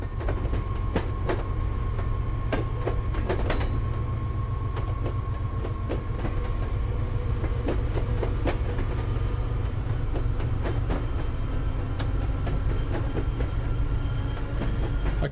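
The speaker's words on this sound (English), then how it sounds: "I kind of think the track joint noise in this is excessive because this is continuous welded rail through here." Rhythmic clickety-clack of rail joints under a commuter train in Train Sim World 5, an MBTA HSP46 locomotive run toward Lansdowne, steady and continuous over a low rumbling drone for the whole stretch.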